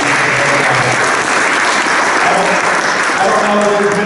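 An audience at a high school athletics awards ceremony, the Guy V. Lewis Awards, gives a dense, sustained round of applause that holds at an even, close, loud level throughout.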